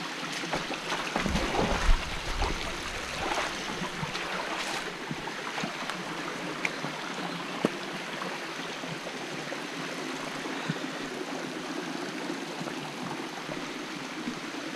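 Water swirling and churning in a small pool of a river at St Joseph, Maracas, a steady gushing rush heard up close, continuous and fairly faint, with no voices.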